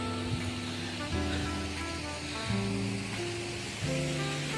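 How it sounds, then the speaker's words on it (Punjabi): The river stream flowing from the lake at Hemkund Sahib rushes in a steady, loud broadband roar of water, continuous and close throughout, with a low tonal hum layered underneath. "ਜਿਹੜੀ ਸਰੋਵਰ ਤੋਂ ਨਦੀ ਆ ਰਹੀ ਆ ਇਹ ਉਹਦਾ ਹਿੱਸਾ ਸਾਰਾ ਇਹ ਦੇਖੋ"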